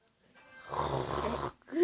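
A single loud, raspy snore from a person, close to the microphone, swelling over about a second and then cutting off abruptly.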